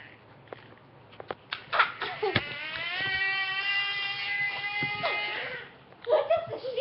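An Alexa smart speaker imitates a lion with a long, sustained roar-like call at close range, with a child and an adult heard briefly around it.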